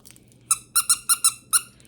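Squeaky toy in a dog's chew toy, squeezed in six sharp, high squeaks, mostly in quick pairs, close and clear over a quiet background.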